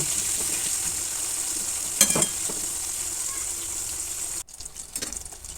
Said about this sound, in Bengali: ওই তেলের মধ্যে আমি বেগুনগুলো ভেজে নেব